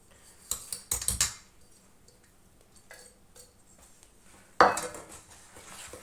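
A spoon knocks and scrapes against a bowl while tikki batter with ginger-garlic paste, green chili, cumin, salt, red chili and turmeric is mixed, giving a few sharp clinks in quick clusters and long quiet gaps.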